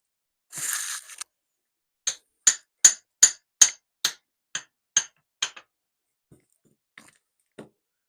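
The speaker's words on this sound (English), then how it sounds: "So I need a hammer." A hammer taps on a knotter part of a New Holland 275 baler: a run of about ten sharp metallic strikes in a steady rhythm, then a few fainter scattered taps, close, with a scrape at the start.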